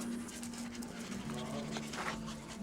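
Several small dogs, Maltese and Yorkshire terriers, pant rapidly and steadily close by indoors, with faint whimpering and a voice softly mixed in.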